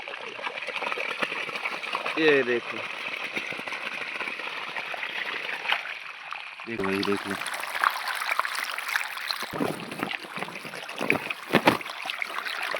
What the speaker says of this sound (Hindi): देखो मोटर चालू कर दिया है तो यहाँ पे पानी गिरना जो है स्टार्ट हो गया है।